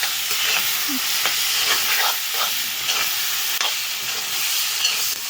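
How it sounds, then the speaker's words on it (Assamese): Meat fries in oil in a pan, a steady hissing sizzle with occasional stirring scrapes and soft pops, close and fairly loud, with no voices. "মাংস অলপ ভাজি তেল দিঙাৰ পাছত অমিতা দিম"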